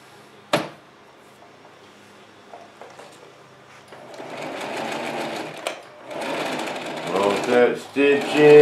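A sewing machine is pushed to full speed with the pedal floored, its motor building to a loud, rapid, steady stitching whir in long bursts. Someone talks over it, and a sharp clunk comes early on.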